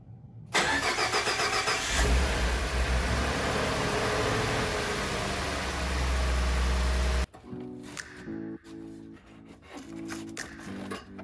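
A Ford F-150 with a 3.5L V6 EcoBoost engine cranks and starts, then runs at a steady idle with a low hum close by before the sound cuts to quieter clattering and knocks.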